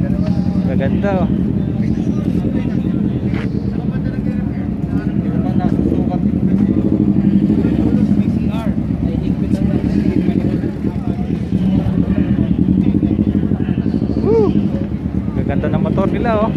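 Motorcycles ride past during a motorcycle endurance challenge event, their engines rumbling steadily and fairly loud with occasional revving and passing whines, while a person talks over them.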